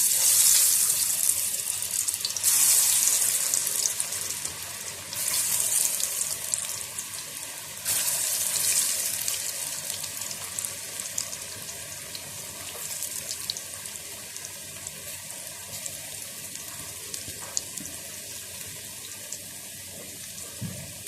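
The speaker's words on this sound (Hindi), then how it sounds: "ऑयल हमारा गर्म हो गया। अब मैं पोटैटो स्टिक डालने लगी हूँ।" Potato sticks dropping into hot oil and frying, a steady broad hissing sizzle that stays loud throughout with brief surges as batches go in, no talking.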